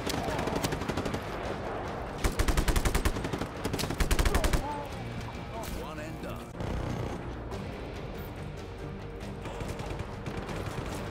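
Gunfire rings out in the video game Just Cause 3: repeated rapid bursts of automatic fire with close, loud volleys that stop and start, mixed with scattered single shots and crashes.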